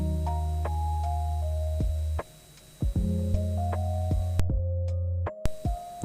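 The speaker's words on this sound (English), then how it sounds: "Input voltage of 15 volts, the motor has rotated." A DC short shunt compound motor runs on a lab bench at 15 volts, giving a strong low steady hum with tonal whine. It drops out briefly, then resumes, with scattered clicks and ticks from switching and meter handling.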